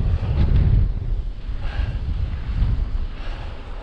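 Wind buffets the microphone of a rider on a Cube Hybrid or Carrera Vulcan Mk 1 e-bike climbing a mountain, a loud, low, rumbling roar that swells and eases throughout, with no voices.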